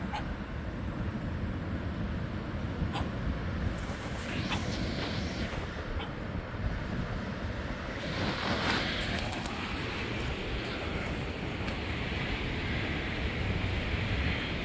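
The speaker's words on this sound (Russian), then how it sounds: "Волны." Stormy sea waves rolling in at Arkhipo-Osipovka in December, a steady broadband roar of surf with wind buffeting the microphone, continuous and fairly loud with no voices.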